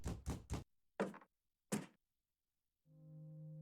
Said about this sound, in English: Did you hear that knocking?